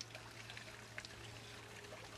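A small waterfall trickles and pours steadily beside a bodhi tree, a faint, continuous wash of water with a low hum underneath and no talk.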